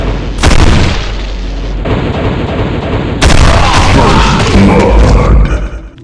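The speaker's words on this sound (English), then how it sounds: "dual explosive shotguns" Explosive shotgun blasts in a Doom mod video game: two massive booming detonations, the second at mid-clip, each followed by a long, loud, crackling rumble of chaotic combat.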